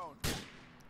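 A single loud gunshot from Grand Theft Auto IV cracks out close and sharp, then fades in a brief reverberant tail over a low background bed.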